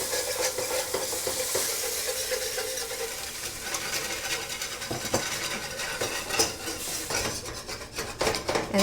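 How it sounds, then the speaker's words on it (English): Gravy being whisked in a pan with browned bits from a spatchcocked chicken, a continuous metallic scraping and clinking of the whisk against the pan over a soft sizzle, close and steady. "I'm just whisking that in gradually, stirring vigorously to ensure a smooth gravy"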